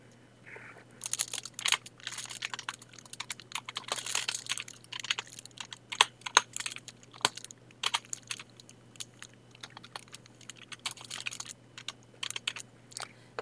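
Quick clicking keystrokes on a computer keyboard typing a file name, irregular bursts of close taps with short pauses against a faint steady hum.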